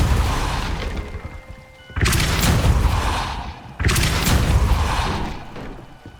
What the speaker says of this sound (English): Revelio. Glacius. Depulso.